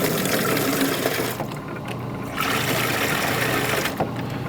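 Water gushing and splashing out of an Electro Freeze SL500 soft-serve machine during flushing, a close, loud rushing flow that briefly drops back before surging again, with no voices.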